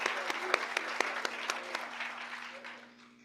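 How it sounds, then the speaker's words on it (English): Moderate applause from an audience at an author event, with a few distinct sharp claps over a steady patter that tapers off toward the end. "Let's give them a round of applause, please."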